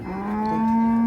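A desi buffalo at the Kamtha cattle market gives a single long, deep, droning low that swells slightly in loudness, close and clear with no talk.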